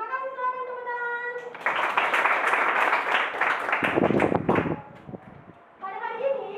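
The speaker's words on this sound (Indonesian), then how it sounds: "silakan tepuk tangan" Ninth-grade students at an Islamic boarding school madrasa burst into brief classroom applause, a loud dense clapping for about three seconds that fades out, with a teacher's voice speaking before and after.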